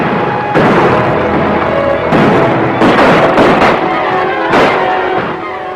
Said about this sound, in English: A lot of shooting going on out there.